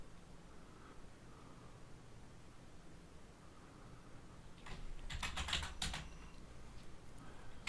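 Linux commands are typed on a computer keyboard, soft scattered key taps over faint room hiss, ending in a short burst of louder, quicker clicks.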